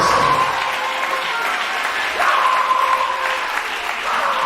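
A church congregation applauding together, a loud, dense and steady wash of clapping that fills the space throughout, with a few indistinct voices mixed into the crowd.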